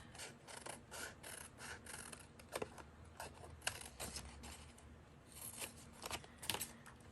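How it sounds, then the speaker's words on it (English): Scissors snip around a shape cut from an old book page, a run of soft, close crisp cuts and paper rasps with a few sharper clicks, with no talking. "And then I'm just going to cut out around that."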